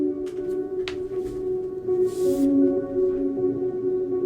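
A sweeping, slow-moving orchestral track plays alone with sustained layered tones and long held chords, with soft swells and faint higher accents drifting over a steady bed.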